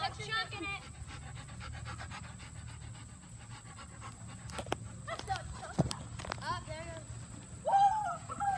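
Several puppies for sale pant rhythmically at close range, with scattered footsteps and people talking nearby throughout.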